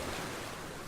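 Ocean waves washing onto a beach at night, a steady broad rush of surf that stays loud and unbroken for under a second, with no voices present.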